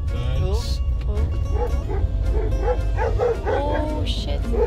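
Several dogs yip and bark in short bursts over a steady rumble of van engine and road noise in Greece, with voices mixed in.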